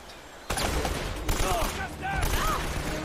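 Shotgun blasts and gunfire in the video game Uncharted: Drake's Fortune, a sudden loud burst of dense firing that carries on through the clip amid game effects, with a voice talking underneath.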